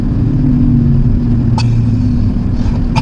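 An Aston Martin DB11 sits with its gearbox in Sport Plus, its engine a steady, deep low rumble close by. Two brief clicks cut sharply over the continuous drone.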